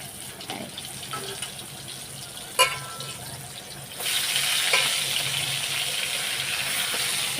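A quiet background gives way to a sudden loud, crackling sizzle as pointed gourd pieces hit hot oil, continuing as a steady frying hiss.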